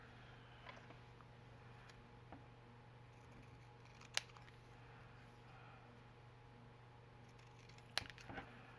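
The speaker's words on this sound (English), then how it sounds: "I tried using these little tiny scissors." Small tiny scissors snip while making a canvas-covered journal, a few quiet, sharp clicks spread apart over a faint hum, close and soft.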